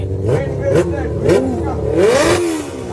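A Yamaha Aerox scooter engine, modified, revs hard, rising and falling in pitch several times, loud and close.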